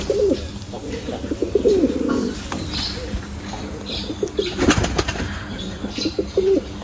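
Pigeons coo on a pigeon farm, several low burbling calls close by with a brief flutter of wings and light background chatter of other birds.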